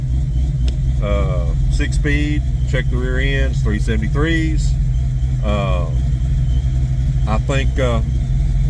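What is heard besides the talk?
1995 Ford Mustang GT engine idling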